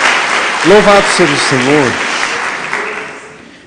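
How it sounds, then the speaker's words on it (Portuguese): A church congregation claps during a Portuguese-language sermon. The applause is loud and close, with a voice speaking over the start, and it fades out toward the end. "Dê uma salva de palmas a Jesus"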